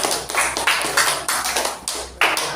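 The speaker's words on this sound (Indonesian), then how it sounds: "Tepuk tangan buat kelompok pertama." Classroom applause for a student group fills the room with dense, continuous clapping that comes in repeated close, bright surges throughout.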